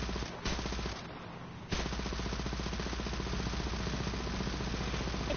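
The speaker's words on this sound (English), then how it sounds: "So, open fire!" A heavy tank's machine gun fires in a video game: a short opening burst, a brief pause, then a steady, loud, unbroken rattle that carries on over the engine's drone.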